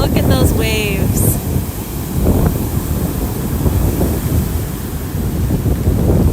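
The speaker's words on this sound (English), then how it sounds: "Look at those waves." Rough ocean surf pounding a beach during Tropical Storm Debby in Sarasota, Florida, a constant loud roar of waves mixed with heavy wind buffeting the microphone, with a brief voice at the start.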